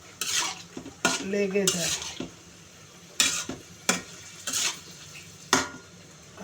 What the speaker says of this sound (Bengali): ভালো করে কষিয়ে নিচ্ছি যাতে মশলাটা সবগুলো ডাঁটার মধ্যে